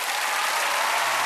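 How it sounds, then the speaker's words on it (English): Studio audience applause for a Royal Shakespeare Company musical production, a dense, steady wash of clapping from a large crowd that stays loud and even throughout, with no voices above it. "Please give a round of applause for the Royal Shakespeare Company's production of Matilda, the musical, featuring Grace Lee"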